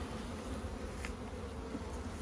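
Honey bees buzz in a soft, steady drone while hives are being combined, faint and continuous with no voices.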